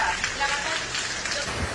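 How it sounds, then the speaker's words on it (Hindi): Heavy rain pours down in a dense, steady hiss, with water leaking inside, a continuous loud wash of drops with no break. "खतरनाक बारिश हो रहा है, बहुत जबरदस्त।"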